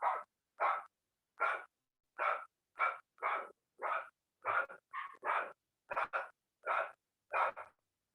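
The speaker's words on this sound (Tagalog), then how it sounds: "Rinig ba yung aso?" A dog barks repeatedly indoors, about a dozen sharp separate barks at an irregular, fairly steady pace, moderately loud with quiet gaps between them and no talk over them.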